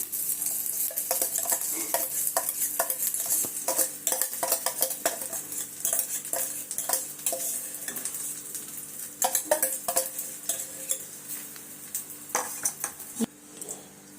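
Egg is beaten until foamy for a fluffy omelette, with rapid, rhythmic clinks of a utensil against a bowl that run close and steady, then thin out toward the end.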